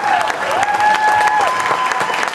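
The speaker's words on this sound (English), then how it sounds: "Big round of applause for all our filmmakers" Loud, continuous applause from a film festival audience for the filmmakers, many hands clapping densely and evenly throughout with no pause.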